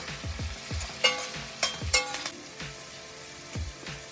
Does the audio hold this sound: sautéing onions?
yes